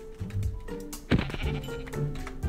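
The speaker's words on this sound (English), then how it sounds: "Ooh, there's another sheep." Sheep bleating in the video game Minecraft, several harmonic bleats in quick succession with a louder one near the middle, set against game ambience with no talking.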